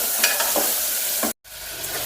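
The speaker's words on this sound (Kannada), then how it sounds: "ಸ್ವಲ್ಪ ಫ್ರೈ ಮಾಡ್ಕೊಳ್ಬೇಕು ಇದನ್ನು." Soaked green peas fry in a pan with a steady close sizzle, broken by scraping stirs and a brief dropout before the sizzling resumes.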